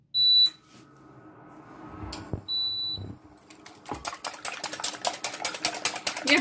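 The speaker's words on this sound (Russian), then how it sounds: "Включаем плиту." Electric kitchen stove beeping as it is switched on: short, sharp electronic beeps spaced apart, followed by a quick run of clicking or tapping sounds.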